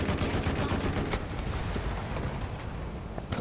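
Rapid gunfire from a Battlefield video game firefight, a dense, loud burst of shots running continuously with no clear gaps.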